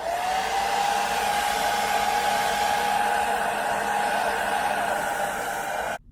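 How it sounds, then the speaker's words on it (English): A blow dryer runs continuously at steady volume during hair braiding, a loud, even whoosh with a constant motor whine that cuts off abruptly just before the end. "Turn my blow dryer on."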